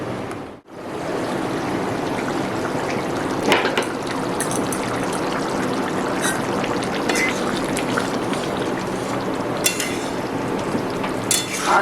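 Small potatoes with peas simmering in a covered pan over medium heat for alur dom, giving a steady close bubbling and watery hiss with occasional light pops, uninterrupted and without voices.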